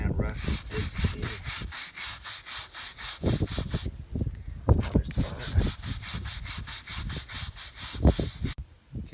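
Rhythmic scrubbing of a rust stain on concrete, brisk back-and-forth strokes repeating steadily with a brief pause midway, close and fairly loud.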